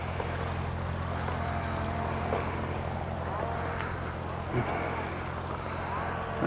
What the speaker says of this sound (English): There's a boat going up the canal.